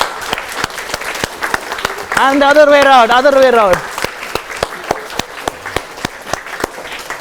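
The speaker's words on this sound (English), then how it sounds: "now start clapping and turn to your right" An audience at a university health research methodology workshop claps in a steady, even rhythm of single claps. A person speaks loudly over the clapping partway through.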